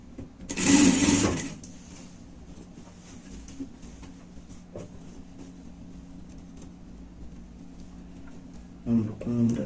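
A sewing machine runs one short, loud burst of stitching along the seam of a lined teddy-bear pet jacket, followed by a long quiet stretch with soft voices and light handling noise.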